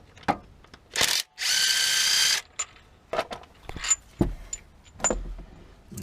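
A power tool removes a bolt during timing belt work on a Nissan Qashqai J11 engine, with a short burst and then a sustained whirring run of about a second, surrounded by clanks, ratchet clicks and handling noises.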